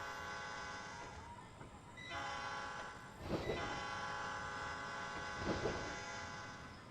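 A simulated locomotive from the Trainz 2019 railway game rolls downhill with a steady engine drone and rail rumble, swelling in loudness twice as the train runs on.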